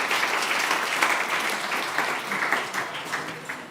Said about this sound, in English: Give yourself an applause as you sit down.